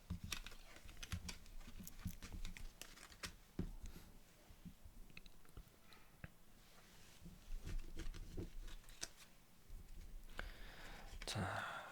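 Tarot cards being shuffled by hand, a faint, steady patter of soft card clicks and flicks with a brief fuller riffle near the end, with no talking.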